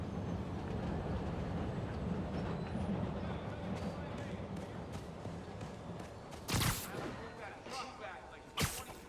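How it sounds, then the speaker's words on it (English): In Marvel's Spider-Man Remastered, a train rumbles past with a steady broad roar, and a couple of sharp loud clacks cut through near the end as it goes by. "I was wondering when the train was coming."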